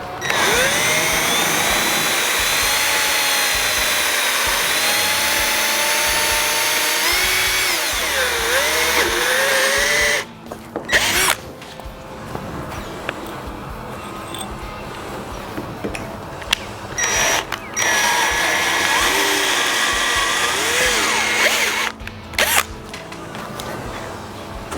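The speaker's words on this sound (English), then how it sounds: "Okay, so we're gonna drill this out." Power drill boring out rivets on a Challenger ultralight's Dacron-covered wing, a loud continuous whine that shifts pitch as the bit bites, then a stretch of choppier, broken drilling with brief pauses.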